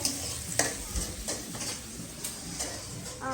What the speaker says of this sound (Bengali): মুরগি মাছ আবার ভাজা ভাজা করছে